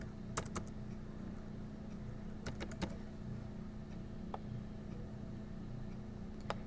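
Soft computer keyboard typing, as a short word is typed into a graphics program: a few quiet, scattered clusters of key clicks over a low, steady background hum, with no voices.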